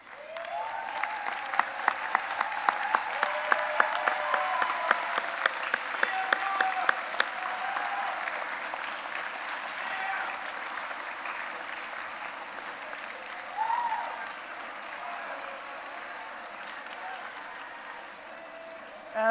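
Graduates at an ArtCenter College of Design spring commencement applaud their families and friends, a long, steady wash of clapping from a large crowd with some sharper rhythmic claps early on, tapering toward the end.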